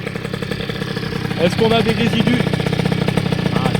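An 80cc two-stroke engine being tuned runs steadily at a buzzing, busy idle that rises slightly louder partway through, with people talking over it at close range.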